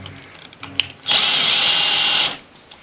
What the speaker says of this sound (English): Just have these synced together when we drill the hole.